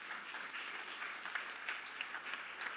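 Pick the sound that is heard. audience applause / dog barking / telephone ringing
audience applause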